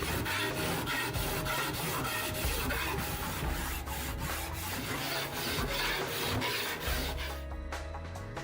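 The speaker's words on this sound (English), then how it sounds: "A jeweler must then file down the chain so that each side is level and looks exactly the same." A jeweler files a Cuban link chain, making quick, regular rasping strokes at close range. The repeated scraping continues throughout at moderate loudness.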